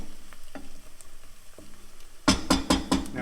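Garlic hits a hot pan for a creamy mushroom sauce, bursting into a loud, crackling sizzle after a quiet stretch of faint kitchen clinks, with stirring pulses breaking through the frying.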